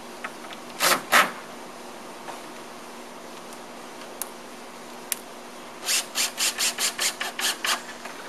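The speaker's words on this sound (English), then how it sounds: "I like to get the screws started a little bit, get it all lined up straight." Screws are started into wooden fence cover boards: two short grinding bursts come first, then after a quiet pause a quick run of about eight rhythmic driving pulses, close and moderately loud.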